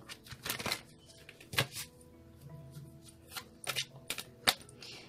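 Tarot cards being shuffled in short crisp riffles and taps, irregular bursts with brief pauses between, close and fairly quiet.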